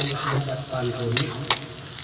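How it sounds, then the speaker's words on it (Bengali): Short burst of sizzling as ginger garlic paste fries in a pan, with two quick metallic taps of a spoon. "আদা রসুনের পেস্টটা দিয়ে ভালো করে আমি একটু ভেজে নিয়েছি"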